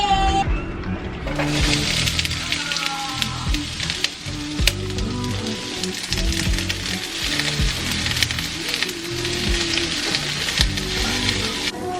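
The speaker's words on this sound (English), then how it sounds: "I was just getting everything chopped up so that I can go ahead and put it on the pan to saute it." Chopped vegetables for steak fajitas sauté in a hot pan, giving a continuous close sizzle with crackling pops and occasional stirring scrapes throughout.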